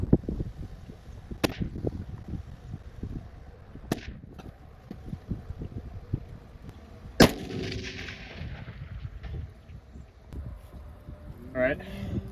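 An FAL rifle with a 6x scope fires at a 400-yard target: a few sharp, loud cracks spaced seconds apart, each followed by a short decay, over steady outdoor background noise.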